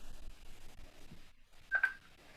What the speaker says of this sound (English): My phone is off, but for some reason it's ringing.